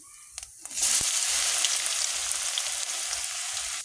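Garlic hits hot oil with whole spices and caramelized sugar already in the pan, bursting into loud, steady sizzling and crackling after a few soft clicks, close up with nobody speaking.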